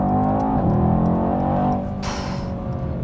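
A Mercedes-Benz E63 S AMG with a Brabus kit accelerates to overtake, its engine holding a steady, close droning hum that drops in level partway through, with a brief hiss following and no talking.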